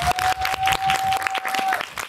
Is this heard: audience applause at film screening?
yes